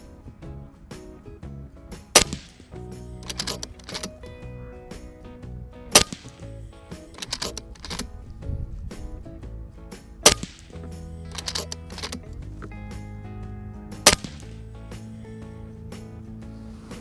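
An FX Impact MKII air rifle fires slugs, four sharp, loud cracks spaced several seconds apart, with quieter mechanical clicks and handling noises from the rifle between shots, close by.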